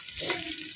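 Onions dropped into hot oil in a pan, a short, close burst of hissing sizzle that swells and then settles.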